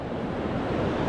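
Sea waves wash in steadily along the shore at Bowentown, a broad even rush of surf with wind noise and no voices.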